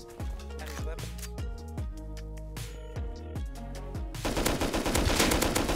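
Rapid automatic AK rifle fire from the survival video game Rust, loud sustained bursts of repeated shots with a denser flurry of gunfire near the end.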